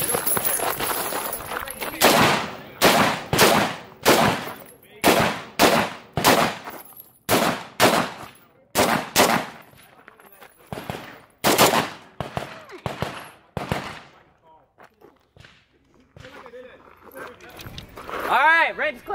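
AK-47 rifle fired through a shooting course of fire: a long series of sharp, loud shots in short bursts and singles, with pauses between strings and some voices on the range near the end.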